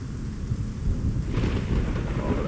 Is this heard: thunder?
yes